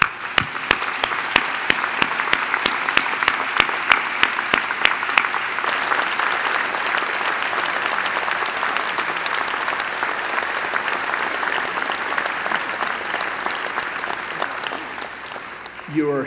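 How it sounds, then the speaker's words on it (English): A large crowd of McGill University graduates applauding themselves at a 2022 fall convocation ceremony, loud sustained clapping filling a big hall for about sixteen seconds, with sharp individual claps standing out near the start. "give yourselves a big round of applause"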